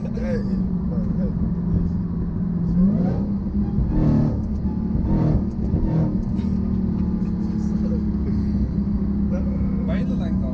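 Supercharged Dodge Hellcat Redeye V8 rumbling steadily under throttle from inside the cabin, a low continuous drone with mild swells, while passengers talk over it.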